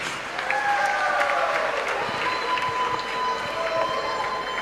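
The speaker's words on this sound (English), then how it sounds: "Clap her for such a good message." A summit audience of young people applauds a speaker, sustained even clapping filling the room, with faint tonal hum and murmur underneath.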